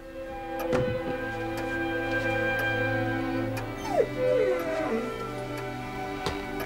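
A dog whimpers and howls in an audio drama scene, high wavering whines and rising-falling howl tones sliding over a steady background hum, moderately close with occasional sharp clicks.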